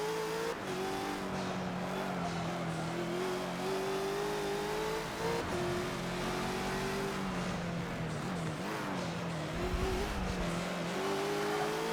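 Race car engine revving steadily with shifting pitch as the car is driven around the Nürburgring Nordschleife in a mobile racing app game, a continuous loud drone with brief tyre scrabble, no talking.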